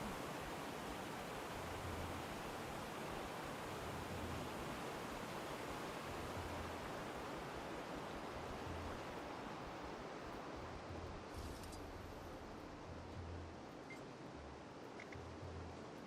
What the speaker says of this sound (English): Babbling brook. So loud.